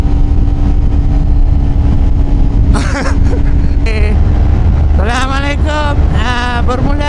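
Kawasaki Ninja 250 fitted with an Akrapovic slip-on exhaust riding along, a close, loud engine drone under wind buffeting, with a couple of quick rising revs toward the end and a voice talking briefly.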